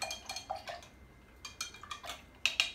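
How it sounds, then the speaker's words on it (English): Syrup is whisked into hibiscus tea in a bowl or pot: light, rapid clinks and taps of a whisk against the container come in irregular bursts, close and fairly quiet, with small pauses between strokes. "I'm going to add my syrup. This is pretty good. And I'm going to whisk,"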